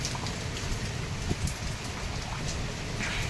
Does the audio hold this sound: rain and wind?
yes